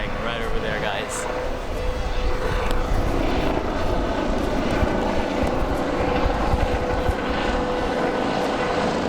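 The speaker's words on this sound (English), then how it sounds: "there's a helicopter flying right over there" A steady engine drone with a low rumble continues throughout, consistent with a helicopter passing overhead, fairly loud and unbroken.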